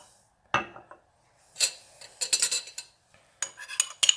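A spoon stirring Espelette pepper and white ingredients with a little water in a small bowl for rouille, giving several quick metallic clinks and scrapes in short irregular bursts, close and fairly quiet.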